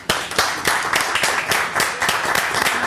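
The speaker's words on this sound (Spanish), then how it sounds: "Muy lindo este aplauso." Applause from a studio audience on a Spanish-language television variety show, a steady dense patter of many hands clapping close by without a break for a few seconds.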